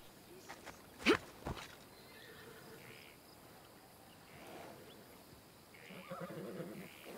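A horse whinnies once, loud and close, in Assassin's Creed Odyssey, followed by faint hoofsteps and scattered softer sounds over a low background of insects and crickets.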